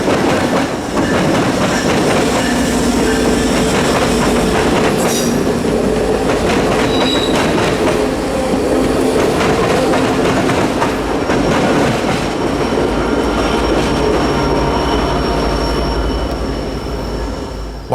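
North Carolina Piedmont passenger train passing close by, a loud continuous roar of rolling wheels with rhythmic clickety-clack and occasional squeals from the cars, steady throughout.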